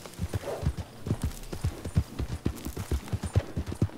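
Horse hooves clip-clopping at a steady trot in the Red Dead Online video game, a regular rhythmic run of muffled thuds close by, with no talking.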